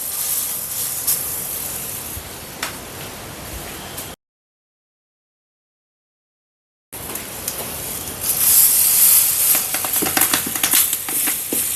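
A banana leaf ada sweet with banana set on a hot stone griddle, giving a steady close hiss and sizzle that cuts out to full silence for a few seconds and then returns louder.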